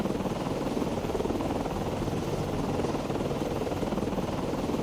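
An aircraft flies in the submarine video game Cold Waters, heard as a loud, steady rotor-like drone that holds at an even level throughout, with no talk.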